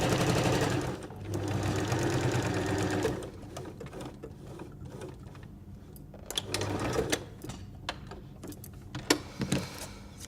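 A sewing machine stitches the final side of a napkin cutlery pouch, running in a loud steady buzz for a few seconds, stopping, then restarting in shorter bursts mixed with clicks and handling knocks.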